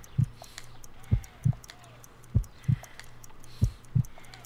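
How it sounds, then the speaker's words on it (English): A faint, weak heartbeat from the detective game Sherlock Holmes: Crimes & Punishments, at roughly 50 beats per minute. Soft, low lub-dub thumps come in paired beats at a slow, steady rhythm over a quiet background hum. "Measure pulse rate by counting the heartbeats for 10 seconds."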